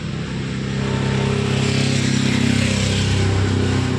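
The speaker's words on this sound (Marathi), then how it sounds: "गाड्यांचा खूप आवाज आहे." Loud, continuous road traffic rumble with engines droning close by, a steady roar that swells slightly and never lets up.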